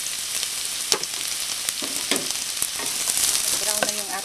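Garlic sizzles in a tablespoon of olive oil in a pan, a steady crackling fry with sharp spits and pops and a few stirring scrapes close by, no talking.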